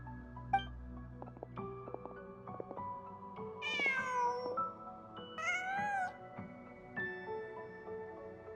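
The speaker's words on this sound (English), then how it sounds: "Huh. Just a cat." A cat meows in the Genshin Impact video game, giving three clear, close meows spaced a second or two apart over soft, sustained in-game music.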